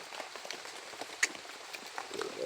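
Rain falls in a faint, steady patter on surfaces outdoors, with a few slightly sharper drops standing out against the soft hiss.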